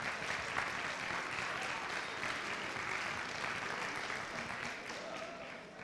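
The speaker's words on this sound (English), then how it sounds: "I think another round of applause for Lasso." A seated crowd at a university World Unity Fair stage show claps for the performer Lasso after an energetic opening act, a sustained, even wash of applause that slowly thins toward the end.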